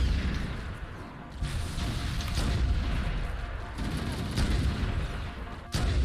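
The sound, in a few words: sniper rifle shot in video game Halo: Combat Evolved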